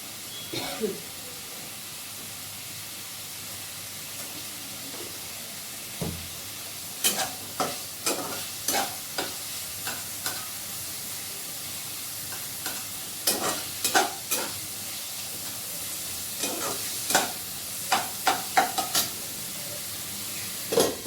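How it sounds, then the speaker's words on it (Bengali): Continuous hiss of vegetables frying in a pan, punctuated by repeated sharp clicks and scrapes of stirring and utensils against the pan. "সবজিটা কাটা সবজিটা ফ্রাই করার জন্য বসিয়ে দিয়েছি"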